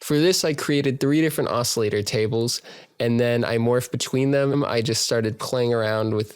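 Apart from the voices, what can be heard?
No everyday noise stands out behind the speech.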